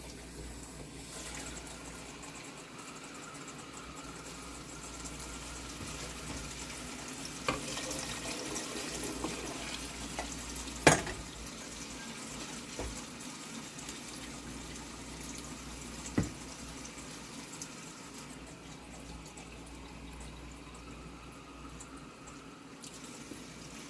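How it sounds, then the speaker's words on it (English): Steady running water pours continuously into a soup pot for a long stretch, about eight cups, with a few soft clinks and thuds along the way. "I'm going to probably add about 8 cups of water in here."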